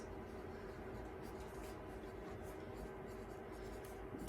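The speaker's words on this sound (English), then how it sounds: "So I'm going to write rainforests" Pen or pencil writing by hand on paper, a steady scratchy scribbling that runs continuously at close range over a low background hum.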